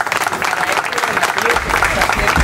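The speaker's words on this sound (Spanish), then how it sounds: "yo pido un aplauso para el ambulatorio" An audience applauds for a clinic at a medical supplies handover, a dense, steady wash of clapping that stays loud throughout and swells slightly toward the end.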